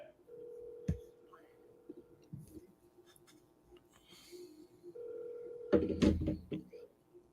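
A phone on an outbound sales call gives a steady ringback tone in two long stretches, with clicks and faint speech nearby.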